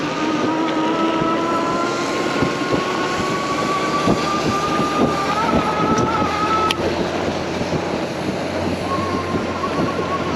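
E-bike climbing a slight uphill grade on throttle power alone, steady broadband wind and road rush with a faint motor whine rising through the ride, loud and continuous with no talking.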